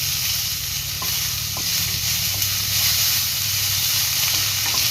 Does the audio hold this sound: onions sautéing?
yes